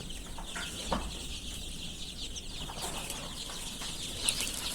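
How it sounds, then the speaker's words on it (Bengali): Native chicken chicks on a farm cheep and peep in a busy chorus nearby, with soft rustling and occasional wing flutters underneath. "এগুলো একদম পিওর অরিজিনাল দেশি মুরগির বাচ্চা"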